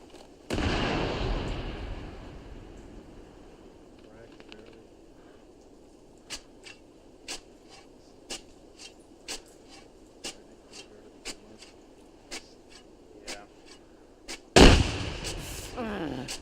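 A flashbang grenade goes off in the game Arma 3 with a loud sharp blast at the very end, preceded by an earlier rumbling boom and a series of evenly spaced clicking taps.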